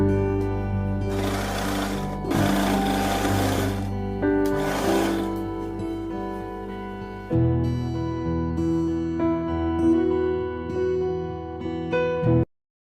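A sewing machine runs single stitching on a girls' uniform skirt, a continuous close mechanical hum with a few louder bursts of faster stitching, stopping abruptly at the end.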